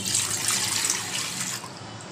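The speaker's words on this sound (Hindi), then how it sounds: "अभी हमें टोप रख देंगे और इसमें डाल देंगे पानी" Water pours steadily into a pot for making chai, a continuous bright splashing rush close by that eases slightly near the end.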